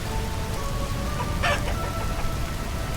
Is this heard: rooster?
yes